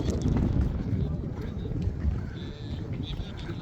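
Steady wind buffets the microphone with low, rough rumbling throughout, loud and close, with faint background sounds, outdoors at the Temple Mount in Jerusalem.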